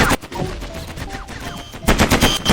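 Rapid bursts of spaceship gunfire in Mini World Block Art crackle and rattle, loud and close, with a dense stretch of shots followed by another intense volley.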